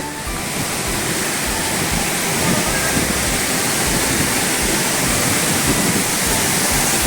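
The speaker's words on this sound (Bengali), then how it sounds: "জার্জি ফলস, অনেক ওপর থেকে জল পড়ছে।" Darjee Falls, water plunging from a great height in a wild forest setting, makes a dense, unbroken roar that stays loud and steady throughout, heard close with nothing else standing out.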